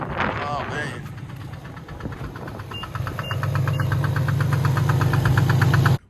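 An idling Infiniti G37 coupe engine with a blown engine, a rapid, regular knocking tick, loud and close, rising steadily before cutting off abruptly; a voice speaks briefly at the start.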